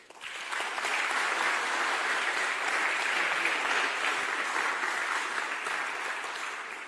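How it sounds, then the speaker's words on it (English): A conference audience applauds the faculty, a dense, sustained wash of clapping that swells quickly and holds steady for several seconds before tapering slightly. "I think we have to applaud again for this faculty"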